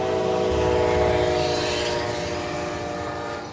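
A train crosses a vast plain in Arizona, its horn blaring as a loud sustained tone over the steady rumble of rolling cars, close and continuous with a slight fade toward the end.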